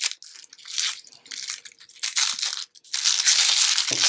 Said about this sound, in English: So I'm just going to remove the outer peel.